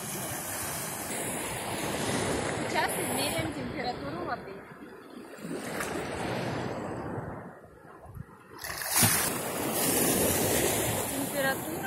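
Small waves wash onto the Sea of Azov shore at the Peresyp spit in Kirillovka, a steady surf rushing with wind buffeting the microphone while someone talks over it.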